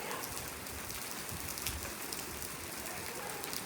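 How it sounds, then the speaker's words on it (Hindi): Big raindrops falling steadily outdoors, a dense, even patter of rain striking surfaces with no pauses or voices, close and moderately loud. "इतनी बड़ी बड़ी बूंदें पड़ने लगी"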